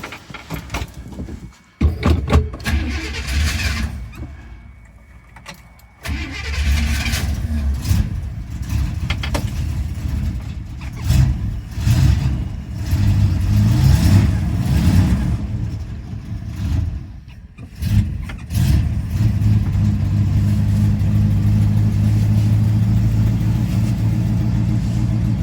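A 1964 Buick LeSabre survivor car's engine, with snow in the car, sputters and nearly stalls, then catches and revs in uneven bursts before settling into a steady, loud, close rumble.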